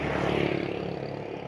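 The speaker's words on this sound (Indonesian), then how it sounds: "Jauh pesawatnya." A steady, low engine drone like a distant airplane, continuous and fairly even in level for the whole moment, with no voices.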